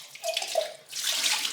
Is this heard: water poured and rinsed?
yes